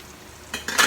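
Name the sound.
ground peanuts stirred into simmering kare-kare sauce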